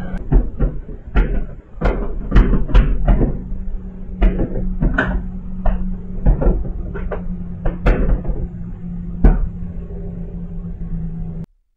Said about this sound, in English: a cupboard slams shut with such force that it shakes the entire room